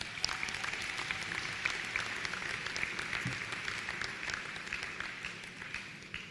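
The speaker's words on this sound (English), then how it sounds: "Let's give them all a round of applause." Audience applause at a spring university commencement ceremony, a sustained wash of many hands clapping at moderate distance, steady for several seconds before tapering slightly.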